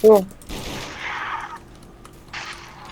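Short bursts of M16 gunfire in the Roblox Zombie Tower game, a sharp loud shot at the start followed by rattling volleys that come and go, with faint clicking in between.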